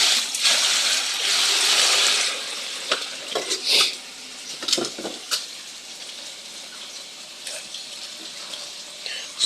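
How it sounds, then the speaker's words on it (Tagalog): Orchids soaked in water, heard as a close, loud hiss of pouring or splashing water at the start. Sloshing and clunking follow as the plants are handled, then a quieter steady wash of running water. "Mababad ko siya ng tubig."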